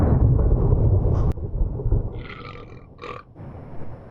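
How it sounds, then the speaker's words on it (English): Deep, rumbling burps sound loudly at first, then give way to a few short, higher bursts, in the game Beacon Pines, with nobody speaking. "Yes, that's what all the burps were for"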